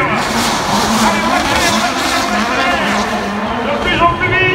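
Sébastien Ogier's Citroën C3 WRC rally car driving at the Trophée Andros 2019 event at the Stade de France, engine revving and shifting continuously under excited commentary and crowd noise, loud and close throughout.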